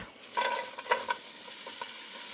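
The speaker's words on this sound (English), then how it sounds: "Once the butter is melted, we're going to add our onions and garlic." Onions and garlic fry in melted salted butter with a little olive oil, a soft close sizzle with a few quick stirring scrapes near the start, fading to a gentle steady hiss.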